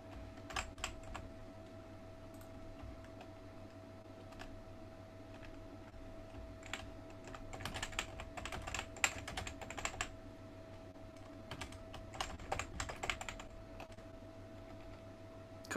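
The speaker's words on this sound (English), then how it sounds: "I can't see what I'm typing because I'm so far away from my screen" Someone types on a computer keyboard from a little distance, soft irregular key clicks in bursts that grow busier midway, over a steady electrical hum.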